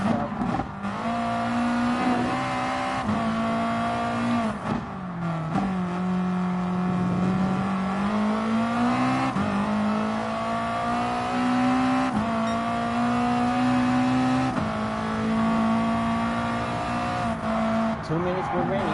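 Race car engines drone in Gran Turismo Sport, a steady high-revving tone that rises and dips with gear changes and tire squeal, continuous and fairly loud throughout.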